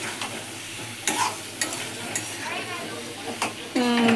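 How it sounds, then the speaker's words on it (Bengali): Sliced ridge gourd stir-frying in a pan, a constant close sizzle broken by spatula scrapes and light clinks against the metal, with a brief voice at the end. "ঝিঙ্গেটা দিয়ে ভালো করে একটু কষাবো।"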